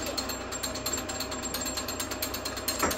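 Meat grinder working sausage meat for non-spicy jalapeño sausage, a rapid repetitive mechanical clatter and whir, steady and fairly close, with a brief scraping burst near the end.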